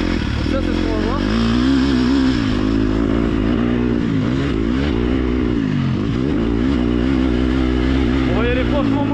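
A KTM motocross bike revs hard on a small dirt track, its engine note rising and falling continuously at close range, while a rider talks over it.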